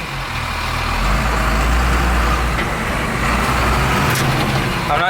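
Heavy engine drone of a 6x6 Power Wagon truck fitted with compound turbos, a steady loud low rumble throughout with road noise while driving.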